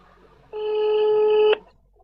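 A single steady electronic telephone ring tone, loud and close, lasting about one second before cutting off abruptly, with quiet background before and after.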